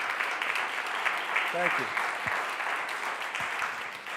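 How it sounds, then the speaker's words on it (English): An audience claps steadily after a talk, a sustained loud wash of applause throughout, while someone briefly says a few words of thanks over it. "because, you know, you're clapping"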